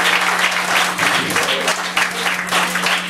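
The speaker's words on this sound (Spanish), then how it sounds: "Le demos un aplauso" Church congregation applauding during a service anointing a new pastor, dense continuous clapping with a low steady hum beneath and some voices mixed in.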